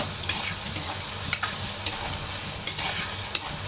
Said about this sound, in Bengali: হালকা একটু লবণ দিয়ে দিলাম আর একটু হলুদ দিয়ে দেব দিয়ে চিংড়িগুলো ভেজে নেব